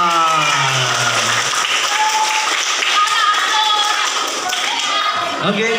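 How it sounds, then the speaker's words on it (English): A school crowd at an SMK Yaspif gathering breaks into broad applause and clapping that fills the room steadily, while a voice carries on over the noise at the start. "Applause for"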